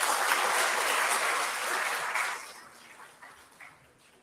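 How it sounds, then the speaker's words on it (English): A festival audience applauds an awardee with a dense burst of clapping that holds steady, then thins out and fades toward the end, leaving a few scattered claps. "let's give her another big round of applause"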